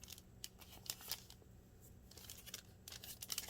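Scissors snip through the bottom of a paper envelope flap in a quiet craft setting, a series of soft, close crisp cuts and rustles spread irregularly across the moment with no voices.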